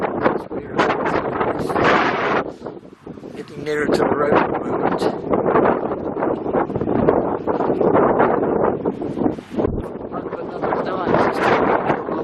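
Strong gusty wind on a cliff-top coast path between Mundesley and Cromer, England, buffets the microphone in continuous rumbling bursts while someone talks over it.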